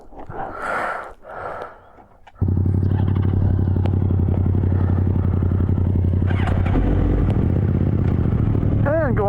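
A motorcycle in gear, its engine opening up into a loud, steady, close droning run after a breathy rustle at the start, pulsing evenly with a rising whine near the end.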